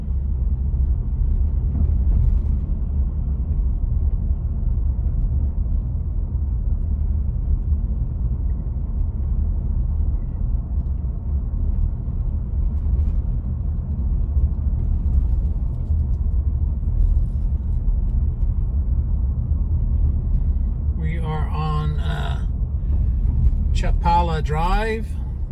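Steady low road rumble from a car driving through a residential neighborhood of Brighton Lakes, Kissimmee, Florida, continuous throughout with a person talking near the end.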